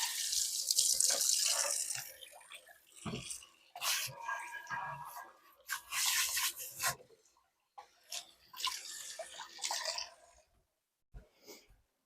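Water running from a kitchen tap into a sink holding soapy water, in bursts that start and stop, with splashing and dish handling between them, fairly quiet and close.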